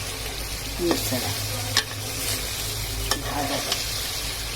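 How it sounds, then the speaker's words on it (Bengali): Meat fried with spices and oil sizzles steadily in a pan while a utensil stirs it, with a few sharp scraping knocks over the constant close hiss. "নাড়াচাড়া"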